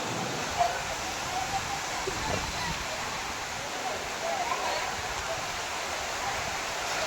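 Shivthar waterfall pours in a constant, even roar, a dense hiss of falling water heard alone at moderate distance with only faint scattered ticks rising above the steady wash.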